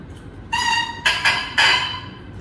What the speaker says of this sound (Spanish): para demostrarles el sonido del oboe, que pueden ver que es un sonido también estridente, nasal, un sonido bastante particular